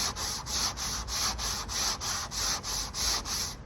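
Sanding block rubbed back and forth along the edge of a VW Transporter rear door, an even rhythmic scraping of about eight strokes, close and steady with no talking.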